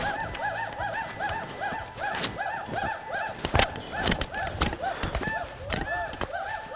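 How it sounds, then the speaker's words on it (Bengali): Hoolock gibbons call through Lawachara forest in Bangladesh, a rhythmic run of rising and falling whoops repeating at a steady pace, fairly clear and mid-distance, with scattered rustles and knocks nearby. "বনের মধ্যে কিছু সময় কাটালেই উল্লুকের ডাকাডাকি কানে আসবে।"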